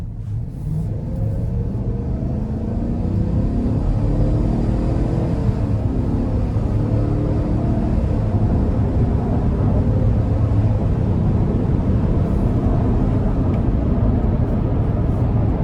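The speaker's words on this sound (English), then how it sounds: "But let's give it a pull here." A 2025 GMC Yukon Elevation with a 5.3 V8 and ten-speed gearbox pulls hard from inside the cabin, a steady, dense engine and road rumble holding loud and even throughout.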